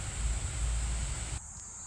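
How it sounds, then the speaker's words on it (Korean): Cicadas buzz in midsummer July at the Korea National Arboretum in Pocheon, a thin continuous high-pitched drone over low rustling that cuts off abruptly just before the end. "매미 소리도 막 들립니다"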